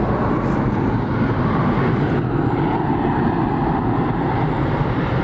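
A loud, steady engine roar rumbles continuously, like a large aircraft passing close overhead, with no voices.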